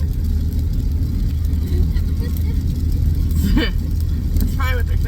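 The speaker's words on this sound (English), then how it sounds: "Car's going by" A car passes along a road with a low engine rumble that stays steady in the background, while someone talks over it throughout.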